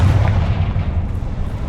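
A heavy, rumbling fire-blast explosion from the Confringo spell in Hogwarts Legacy, loud and close, with a dense low boom that fills the whole moment without speech.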